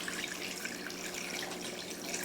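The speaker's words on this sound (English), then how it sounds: "So let's put our liquid in here." Water or stock pours steadily into a pot of oxtails, a continuous broadband splash and gurgle with no talk over it.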